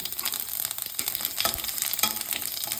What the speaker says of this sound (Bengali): এখন আমি দুটো শুকনো লঙ্কা এর মধ্যে দিয়ে দিচ্ছি।